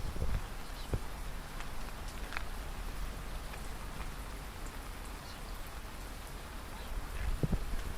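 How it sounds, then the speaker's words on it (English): Heavy summer rain pours down steadily in England in July, a dense, even hiss of drops on surfaces that holds through the whole stretch with a few sharper drips and taps standing out. "It's pouring."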